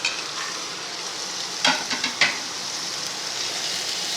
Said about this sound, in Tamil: எல்லாம் லைட்டாக வதக்கி